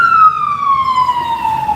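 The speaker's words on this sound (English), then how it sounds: "Got a siren going. Let me just let that pass. The fire truck." A fire truck siren passes close by as a loud, sustained wail that slides steadily downward in pitch. No other sound competes with it.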